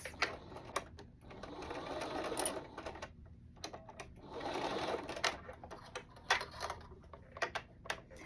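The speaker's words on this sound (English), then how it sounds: "we are going to sew this" A sewing machine stitches a cotton sweater in two sustained runs, each a few seconds long, with a brief pause between them. Light clicks and handling noises follow, and soft talk can be heard faintly in the background.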